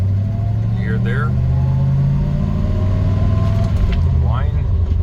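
A 1955 Chevrolet Bel Air transmission whines steadily beneath a heavy engine drone while the car drives, and someone speaks briefly over it.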